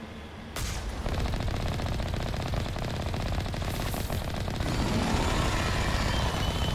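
Rapid automatic gunfire in the sci-fi shooter Mass Effect Legendary Edition, a loud continuous rattle of shots with rumbling combat noise, running steadily throughout with no one speaking.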